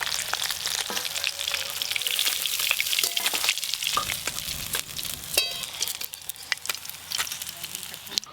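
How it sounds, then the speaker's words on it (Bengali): Tilapia fish frying in hot oil in a pan, a steady broadband sizzle with spatula stirs and light clinks throughout, close and fairly loud, with occasional background voices. "একই রকম ভাবে এই মাছগুলো ভেজে নেব"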